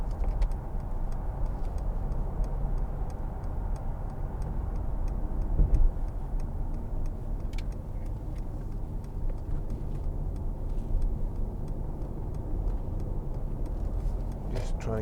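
A 2015 Mercedes-Benz C300 CDI BlueTEC Sport diesel accelerates along a road, with a steady low engine drone and tyre rumble heard from inside the cabin, joined by faint clicks.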